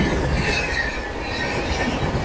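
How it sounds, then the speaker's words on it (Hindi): A train rolls past close by on railway tracks, its wheels giving a steady loud rumble and clatter with thin squealing tones above, continuous throughout and without talk. "अब ट्रेन आ गई तो मुझे साइड में खड़ा होना पड़ा।"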